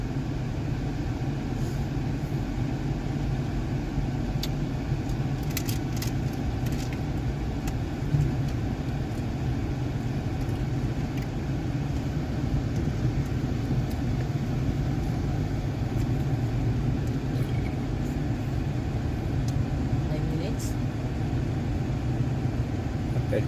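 A car moves through road traffic in Riyadh. A steady, moderate engine and road rumble continues throughout, with occasional faint clicks and ticks from nearby traffic.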